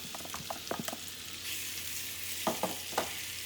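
Sliced peaches hit melted butter in a hot cast iron pan, setting off a steady close sizzle with scattered spatters and a few sharp clinks of a utensil, the hiss swelling louder partway through.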